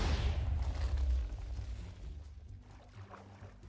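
A TNT explosion in the video game Minecraft bursts loud and deep at the start, then rumbles and fades away over the next few seconds with no talking.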